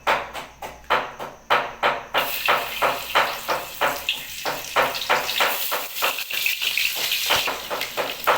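Onions frying in hot oil give a close, loud sizzle broken into a fast, regular run of bursts, like repeated stirring strokes, with no one talking.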